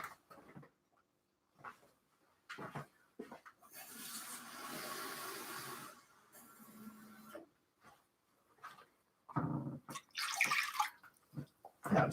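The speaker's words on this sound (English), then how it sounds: "it also calls for 1 1/4 cups of water" Water poured into a boxed white cake mix, a steady splashing stream lasting a couple of seconds, with scattered kitchen knocks and handling noises before and after.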